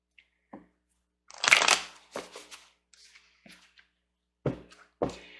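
Tarot cards are handled and shuffled in short, crisp bursts of riffling and soft thumps, separated by quiet pauses, close by with no speech.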